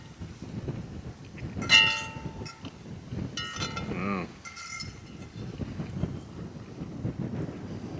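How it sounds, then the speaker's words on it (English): Strong night wind outdoors in cold weather at a truck campsite, a steady low rumbling buffet against the microphone with gusts rising and falling, plus a few scattered metallic clinks. "the wind really picked up and it's gotten chilly"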